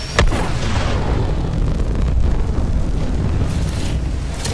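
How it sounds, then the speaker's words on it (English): A Valkyrie jet blasts off in Apex Legends: a sharp burst of ignition followed by a loud, sustained roaring rumble that stays close and full for several seconds, with no voices. "Here we go for burn. Lift off."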